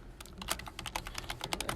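Close, quiet computer keyboard typing, a quick run of crisp key clicks in an irregular rhythm over light room noise, with no voices.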